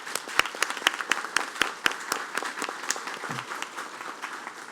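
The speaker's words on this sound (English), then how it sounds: "we should all give you, a round of applause" Applause for police academy graduates at their graduation ceremony: distinct, sharp individual claps ring out over a dense crowd clapping, loud and close at first, thinning toward the end.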